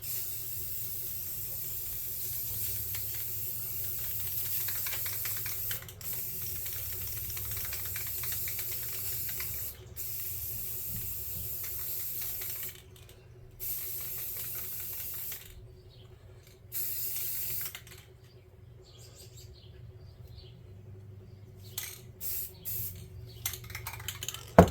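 A spray can applies Rust-Oleum metallic finish, hissing in a long steady stream that breaks into short separate bursts near the end. The spraying is quiet to moderate and nobody talks.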